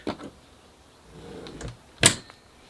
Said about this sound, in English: To open it up, extend the legs up till you hear the click.